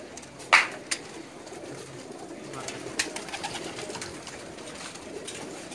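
Young pigeons at a rooftop loft give soft, low cooing and scattered flutters, with one sharp wing clap or call early on, over a steady outdoor hum.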